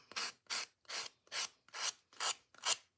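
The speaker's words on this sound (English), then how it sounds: "And we're just going to sand" A sanding block rubbed over a wooden craft Christmas ornament, producing seven steady, evenly spaced raspy strokes in a regular back-and-forth rhythm, close up and alone.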